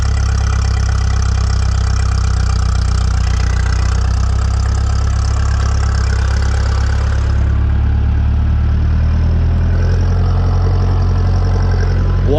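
A tractor with a snowplow pushes snow, its engine running steadily and loud with a deep continuous rumble and idling knock throughout, with no talk.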